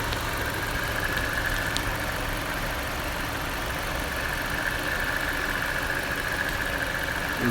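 A 2017 Jeep Compass Latitude 4x4 with a 2.4 liter engine runs steadily at idle, a continuous even hum with a faint whine on top, heard alone at moderate level with no talk.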